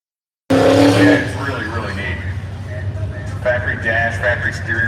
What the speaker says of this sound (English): Joe Miniconzi's having trouble over there off the other side of the racetrack trying to get this thing out of a burnout